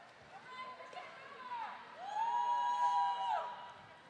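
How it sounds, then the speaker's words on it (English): A Crooked River cheering section at a roller derby bout swells with whoops and shouts, starting faint and building louder toward the middle, with a higher, brighter cry rising over the crowd noise. "Crooked River cheering section getting kind of loud here in the second half."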